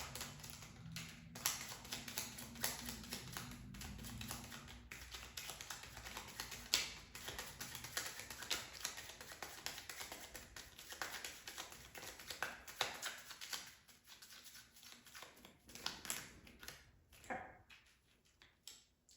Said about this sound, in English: here, I'll give it one more shuffle.